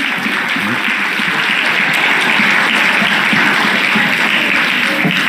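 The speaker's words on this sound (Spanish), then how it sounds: "Dale un aplauso fuerte al Señor." Loud, sustained applause from a church congregation at an evangelical service fills the whole stretch, a dense steady wash of clapping with a few voices breaking through.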